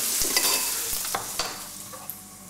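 Meatballs frying in a pan with a close, steady sizzle, punctuated by several scrapes and taps as they are stirred and turned.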